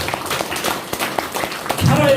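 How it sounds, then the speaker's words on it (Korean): Elderly listeners clap at a senior citizens' college lecture in Goheung, Korea. The claps come scattered and uneven, mixed with voices in the room, and swell toward the end. "박수 한번 칩시다"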